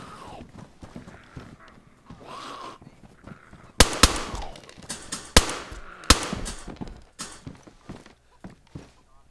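Several sharp, loud unsilenced gunshots in a video game, spaced a second or two apart among clattering footsteps and softer thuds, with a voice speaking briefly early on.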